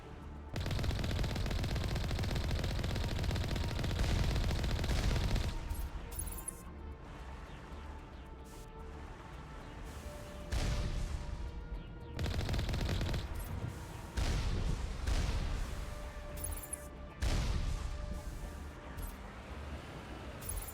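Rapid bursts of automatic gunfire ring out in the sci-fi shooter Mass Effect Legendary Edition, loud and dense for the first five seconds, then continuing in broken volleys and single shots with brief lulls.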